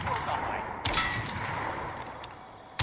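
Gunfire in Call of Duty Modern Warfare, with a couple of sharp, loud broadband shots about two seconds apart over a steady, noisy game background.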